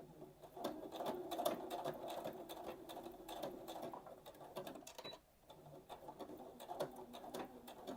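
A sewing machine runs a short holding stitch along a dress seam, a steady close rattling buzz that briefly pauses partway through and then resumes.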